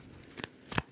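Sibyl's Oracleum tarot cards are being shuffled in two quick, soft riffling bursts close to the microphone, with quiet pauses in between and no talking.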